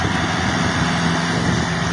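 A small engine runs steadily at a constant idle, a continuous droning rumble close by with no pauses.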